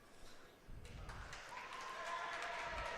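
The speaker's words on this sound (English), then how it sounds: "Bunch of cheers and woos." Spectators cheering and whooping at a varsity high school wrestling meet, a broad, building crowd roar with scattered shouts that swells and holds steady through the end, some voices mixed in.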